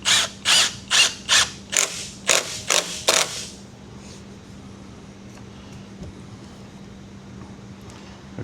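A 3.5 inch screw is driven into a wooden garden gate by a power driver, heard as about eight short, loud, evenly spaced mechanical bursts, after which only a faint steady hum remains.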